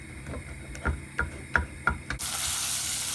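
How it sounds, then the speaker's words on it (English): Butter being stirred into caramel in a pan: a run of soft, regular scraping strokes with faint sizzle, then a steady broad hiss of frying takes over in the last second. "You have to keep on with this and keep stirring. Turning into caramel."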